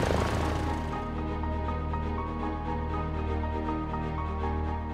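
A Cessna 172R engine runs up in a flight simulator, with the piston engine and propeller droning loud and steady after a brief rise, close and continuous with no talking.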